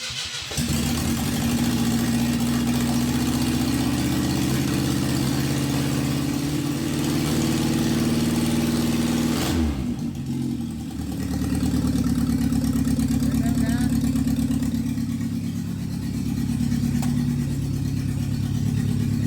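A 1983 Ford Ranger engine converted from fuel injection to a carburetor runs steadily at a low, rumbling idle close by, with a brief dip in the drone midway before it carries on, and no talking.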